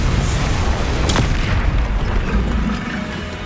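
A Confringo fire spell blasts in Hogwarts Legacy, a loud, dense booming explosion that fills the whole moment with rumbling, crackling noise before easing slightly at the end.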